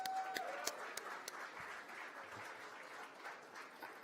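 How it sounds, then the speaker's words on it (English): Audience applause at a political symposium, a steady wash of many hands clapping through the whole stretch, moderately loud with a few sharper individual claps standing out. "Let's give ourselves a round of applause."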